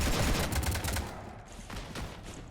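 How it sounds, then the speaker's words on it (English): Rapid automatic gunfire rakes a ship in Mass Effect 3, a dense burst of loud, crackling shots in the opening second, then a quieter stretch of scattered impacts and rumble. "You want to stop shooting up my ship?"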